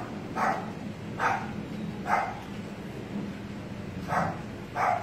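Dogs bark repeatedly in a wealthy residential neighbourhood: five evenly spaced barks at a moderate distance over steady background noise, with no one talking.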